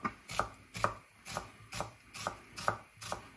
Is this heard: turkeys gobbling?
no